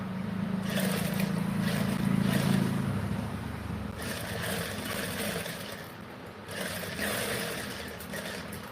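A sewing machine stitches binding around the round neckline of a blouse, its steady mechanical whir loud and continuous, with a brief pause partway through before the running resumes.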